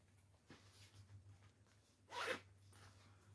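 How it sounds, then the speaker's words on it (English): A zipper on a bag pocket is pulled in a few soft, quiet strokes, with one quick, brighter zip standing out near the end over a low background hum. "the pocket with a zipper"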